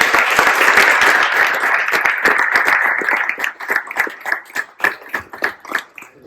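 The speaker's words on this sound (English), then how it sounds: "Can we give a round of applause first?" Applause from an audience after a stablecoin talk, dense clapping at first that thins out into a few scattered, rhythmic claps as it fades.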